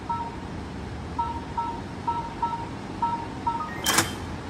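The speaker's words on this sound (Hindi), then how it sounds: "अगर आप इस लॉक का साउंड सुनते हैं तो it's quite like a telephone" Short electronic keypad beeps from a Royal Guard TW700 smart lock sound in an uneven sequence of about a dozen tones, fairly faint against a hissy background, followed by a brief louder chime.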